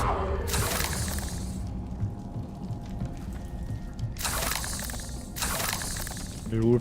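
Confringo blasting spells from the Hogwarts Legacy video game burst out in three loud, crackling explosive bursts, each about a second long, separated by quieter stretches with a voice calling out.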